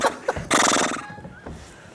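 A horse neigh used as a comic sound effect, a loud bright whinny with a quavering tail following a couple of short clicks.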